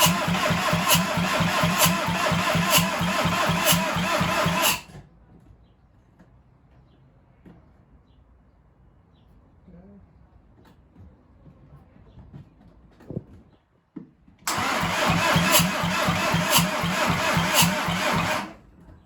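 A SEAT Arosa 1.9 TDI diesel with a converted wiring loom and a replaced battery runs with a loud, clattering, rhythmic idle, then cuts out. After about ten quiet seconds with small clicks, it cranks and fires back into the same steady diesel clatter.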